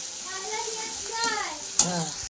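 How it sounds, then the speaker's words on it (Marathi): Paste of ginger, garlic, green chili and cumin frying in a pan, a steady sizzle with stirring and a sharp clank near the end, while someone speaks over it. "यातून अद्रक, लसूण, हिरवी मिरची आणि जिरं याचं वाटण आता हे पण टाकून घेते"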